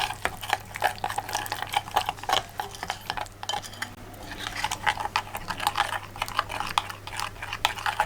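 Fish sauce marinade being mixed in a bowl, a dense run of quick light clicking and tapping strokes at close range, steady throughout with a low constant hum underneath.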